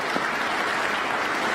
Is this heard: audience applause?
yes